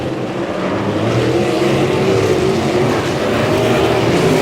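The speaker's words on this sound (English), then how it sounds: "the cars move to the high side of the speedway" Sprint cars race around Humboldt Speedway in a dense, continuous engine roar, a loud pack of motors droning and rising together without break.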